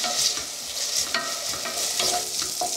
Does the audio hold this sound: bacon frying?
yes